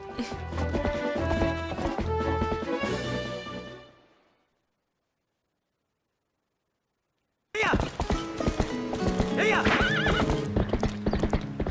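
A galloping, neighing horse in the video game Twilight Princess HD gives rapid hoofbeats and whinnies over game music. The sound fades to silence for a few seconds, then the gallop resumes loudly.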